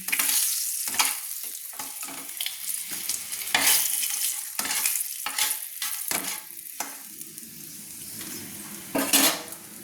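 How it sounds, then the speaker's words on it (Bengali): Rohu fish pieces frying in oil in a wok, with a steady sizzle broken by repeated clinks and scrapes of a spatula against the metal as pieces are lifted out, close and clear with no talking. "এবার একটা খুন্তির সাহায্যে আমি মাছটাকে তুলে নেব"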